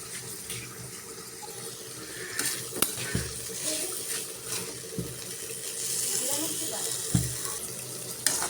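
Water splashing and pouring into a pan of Bengali shutki sambar with kochu mukhi, tengra fish and jackfruit seeds, a steady close stream with a few sharp clinks of utensil against metal.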